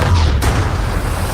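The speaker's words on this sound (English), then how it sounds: "Oh, explosions." A deep, loud boom rumbles through the whole short stretch, a heavy explosion blast with low-end roar and no voices.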